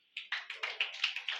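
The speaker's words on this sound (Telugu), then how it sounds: "చప్పట్లు కొట్టండారా" Congregation at a Good Friday worship service clapping hands together in a steady, rhythmic beat, about seven or eight loud claps per second, crowded and close with no talk over it.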